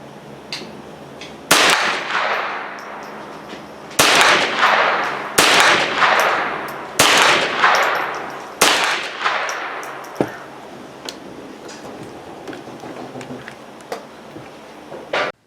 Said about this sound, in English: Henry AR-7 Survival with LVPO scope using Remington 22 LR Golden Bullet.